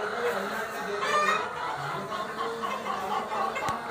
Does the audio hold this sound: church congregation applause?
no